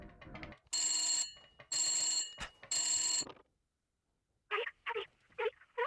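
A telephone rings in the Silent Hill 1 video game, three long loud ringing bursts in steady rhythm, followed by a few shorter, fainter electronic chirps.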